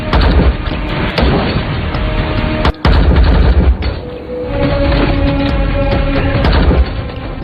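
Loud action-film gunfight with rapid bursts of gunshots and booming impacts, nearly continuous with a brief cut in the middle.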